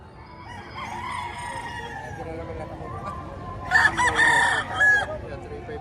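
White green-legs rooster at a poultry sale in Padre Garcia, Batangas crows once near the end, a loud, fairly close call over faint background murmur and voices.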